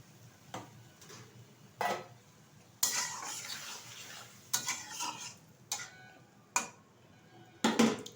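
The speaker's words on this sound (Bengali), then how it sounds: "ভালোভাবে একটু নাড়িয়ে দিচ্ছি।" Okra and potato curry stirred with water in a pan: faint scraping swirls punctuated by several sharp clinks of a utensil against the pan, spaced irregularly, with no talk.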